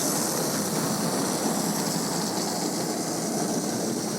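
A Mainline Railways J72 model locomotive running at speed gives a steady, loud, unbroken mechanical whir and rumble with no gaps, alone without speech.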